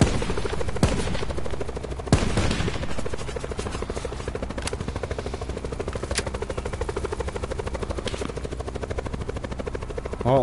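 Helicopter rotor drone from the Call of Duty Black Ops 4 Blackout battle royale game, loud and continuous, with several sharp gunshot bursts cracking over it.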